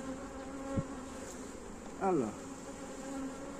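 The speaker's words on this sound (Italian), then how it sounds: "Le api sono abbondanti, abbondanti proprio" Honeybees hum steadily at a hive during beekeeping work on a swarmed colony, a faint continuous drone with a brief louder buzz passing close, and a single spoken word early on.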